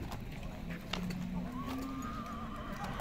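A Kyrgyz horse whinnies at the Sokuluk horse market, one drawn-out neigh rising and falling, faint and somewhat distant over soft hoof clatter and a low murmur of people.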